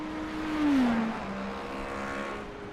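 A race car in a prototype-class racing video game at Fuji International crosses the finish line, its engine note a sustained tone sliding downward as it passes close by, followed by a steady steady engine drone.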